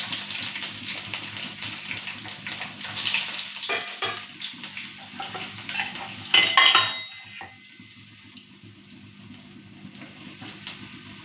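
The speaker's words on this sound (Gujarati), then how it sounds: "જીરું ચટકે એટલે આપણે મીઠા લીમડાના પાન એડ કરીશું. થોડી હિંગ એડ કરીશું" Curry leaves, asafoetida and chopped garlic hitting hot oil with crackling cumin seeds, a steady close sizzle and hiss with brief stirring clatter and a sharper spitting burst midway before settling to a gentler fry.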